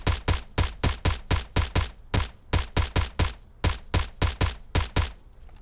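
Rapid, evenly spaced shots from a QBU88 rifle fired prone off its bipod in PUBG Mobile: about twenty sharp, loud reports in a steady cadence with brief pauses, no talking.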